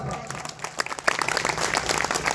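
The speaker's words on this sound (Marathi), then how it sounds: "सर्वांनी जोरात टाळ्या वाजवायच्या." An audience at an Ambedkar Jayanti gathering claps loudly in dense, uneven bursts, a full room of hands clapping together, sustained across the moment without any talking on top.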